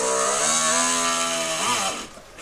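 A high-pitched power drill whines steadily while drilling into oiled metal for nearly two seconds, then winds down and stops, leaving a quiet tail.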